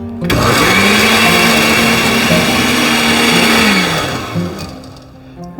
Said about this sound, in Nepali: मिक्सीमा यो आँप काटेर राखिसकेपछि यसलाई ब्लेन्ड गरौँ